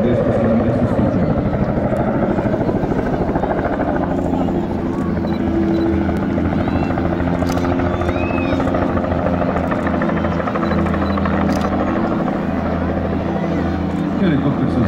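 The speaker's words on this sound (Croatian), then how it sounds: "Helikopter se zaustavlja ispred vas" A military helicopter performs at the Zemunik air base air show near Zadar, Croatia. Its loud, close, continuous rotor and turbine roar fills the whole stretch while an announcer talks over it.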